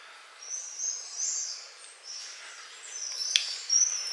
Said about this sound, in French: Ah les oiseaux c'est impressionnant.